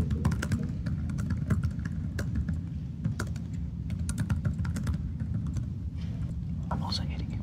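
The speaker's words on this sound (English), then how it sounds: "So the keyboard on this is perfectly normal. Soft, quiet, tactile keys." Someone types quickly on the detachable keyboard of a 2025 Surface Pro 12-inch tablet, with soft, quiet, tactile keys giving a rapid stream of muffled clicks and taps up close, over a low background hum.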